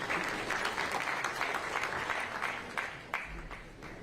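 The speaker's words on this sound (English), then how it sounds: "Round of applause one more time" Sustained, dense applause from an audience at an official Super Bowl halftime show presentation, steady and fairly loud for several seconds before tapering slightly.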